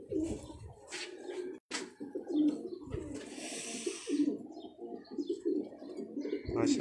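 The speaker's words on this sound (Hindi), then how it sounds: "बहुत बड़े किंग साइज का ये कबूतर" A very large king-size pigeon coos in low, repeated rolling calls among other pigeons, with scattered chirps and a rustle of wings close by in hot, still air. Faint voices sound at times.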